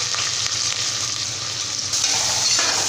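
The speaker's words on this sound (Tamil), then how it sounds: "இப்போ வந்து இதில் வெங்காயம் சேர்த்துக்கிறேன்." Sliced onions fry with whole spices (cinnamon, cardamom, cloves, fennel) in hot oil for mint biryani, a steady close sizzle with the clatter of a spoon stirring them in the pan throughout.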